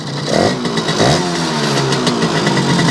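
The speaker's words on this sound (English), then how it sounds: "So there's a pretty good idle" A Yamaha 100 Trailmaster two-stroke motorcycle engine idling close by, a loud, steady burbling putter with a couple of slight throttle blips near the start.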